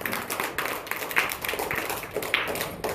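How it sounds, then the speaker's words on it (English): A group of people clap their hands together in an uneven burst of claps with a few sharper individual slaps standing out, moderately close and with no talking. "Give them a big clap."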